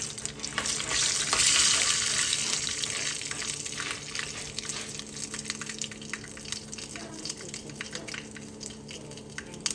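Mustard seeds, dried red chilies and curry leaves frying in oil for a ridge gourd chutney tempering, a loud burst of sizzling early on that settles into a crackling, popping hiss, close and without speech.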